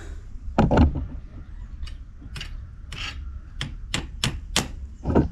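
A homemade salt-water welding machine's electrode is touched to metal, throwing sparks with sharp crackling zaps and scratchy bursts that come in an irregular series, close and fairly loud over a steady hum.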